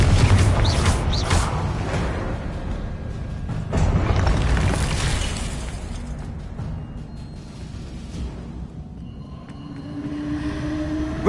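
A Confringo blast in a Hogwarts wizarding video game lands as a loud, deep boom with a rumbling tail, then a second surge, before settling into quieter mechanical ambience with faint tonal hums and no voices.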